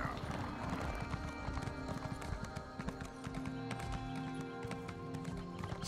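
Horse hooves clip-clop in a steady trotting rhythm in the video game Elder Scrolls Online, faint and mixed under busy game sounds.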